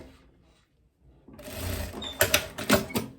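A sewing machine stitching Zara spandex trousers, starting from near silence, then a rising motor whir and a few loud, rapid bursts of stitching close by.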